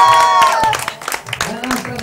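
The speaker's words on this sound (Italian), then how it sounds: "Facciamo un applauso anche ai bambini." Applause and scattered clapping from a crowd of guests at a birthday party in a restaurant, cheering the children; a short burst of hand claps mixed with voices and chatter.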